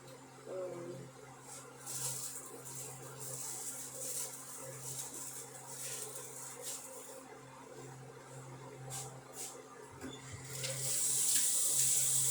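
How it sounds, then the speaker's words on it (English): Tap water runs steadily into a cooking pot in a home kitchen, a continuous hiss and splash that swells louder near the end. "I'm gonna add a little water."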